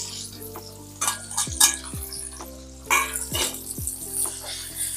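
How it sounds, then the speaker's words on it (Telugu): Hot oil sizzling and popping as fried chicken pieces go into a pan for chicken pickle, with metal spoon scrapes and stirring clinks over a steady frying hiss, close and fairly loud. "మనం ఇందాక ఫ్రై చేసుకున్న చికెన్ని ఇందులో వేసేద్దాం"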